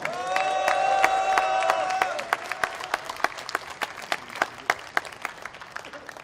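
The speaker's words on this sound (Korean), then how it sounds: "여러분 동의해 주시면은 박수 한번 쳐주십시오" Applause and cheering break out among the audience at a book launch, starting as a crowd's excited shouts and sustained tones, then thinning into scattered, distinct claps that fade out.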